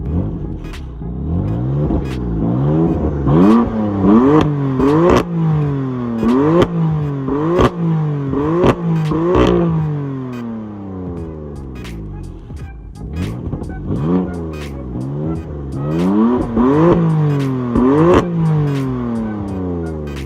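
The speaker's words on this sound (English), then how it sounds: "So what you just heard there is essentially when these valves open on these cars, it's pretty much just a straight pipe from the muffler." Repeated revving of a BMW F80 M3 with a secondary cat delete, BMS intakes and unplugged, open exhaust valves: a series of loud, sharp throttle blips and falling revs, a brief lull, then another burst of revs, close up.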